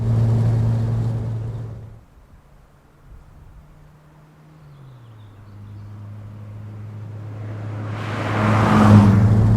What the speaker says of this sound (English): The main thing that you can hear is the engine